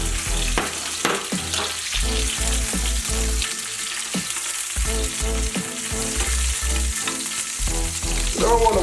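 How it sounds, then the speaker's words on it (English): Vegetables frying in hot oil for ackee and saltfish, to be cooked soft rather than crisp: a loud, close, continuous sizzle with some crackle. Low thumping sounds run beneath it. "you don't want to fry these crisp, you just want to get them nice and soft"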